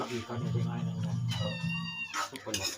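A cat gives a clear, high meow partway through, heard over someone talking nearby.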